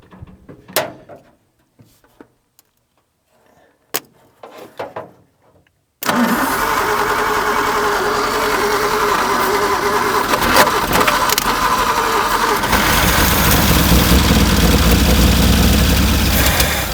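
A 1950 Nash car engine, after 23 years without running, cranks to life after a quiet stretch with a few clunks, then roars loud and steady, settling into a rough, continuous idle.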